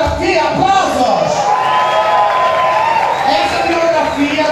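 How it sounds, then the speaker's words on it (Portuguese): A loud nightclub audience cheers, whoops and applauds at a drag comedy show, a sustained roar of voices and clapping that never lets up, with shouting mixed in. "vamos aplaudir minha biografia, aplausos!"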